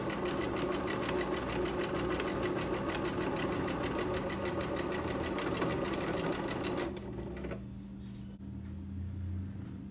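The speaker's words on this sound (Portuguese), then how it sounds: "Vou fazer o retrocesso e vou costurar em cima da marcação" A sewing machine stitches a fabric mask with a fast, steady mechanical chatter that runs continuously for several seconds, then drops to a quieter hum as the stitching stops.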